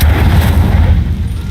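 A fire spell cast in Hogwarts Legacy bursts out as a loud, heavy boom that rumbles low and fades over a second and a half, with no talk over it.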